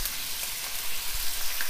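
Spare ribs frying in a pan as fish sauce goes in, giving a steady close sizzle with a soft low thump partway through, no voices.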